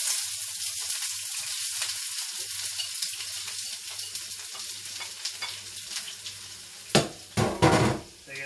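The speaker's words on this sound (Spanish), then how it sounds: "echaremos la cebolla" Onion frying in a pan for a white bean dish, a continuous crackling sizzle with a low hum beneath, then a few louder clatters and stirring bursts near the end.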